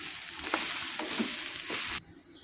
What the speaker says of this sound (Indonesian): Sekarang saya nak masukkan kelapa parut ya. Kita gaungkan dalam 2-3 kali.